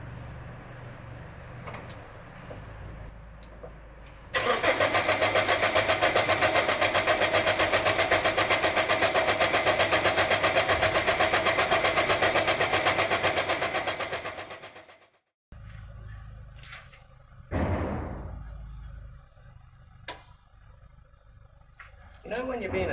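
A car engine cranks over in one long, loud, steady run of about ten seconds after a fuel pump repair, then cuts off abruptly without catching, followed by quieter workshop clatter.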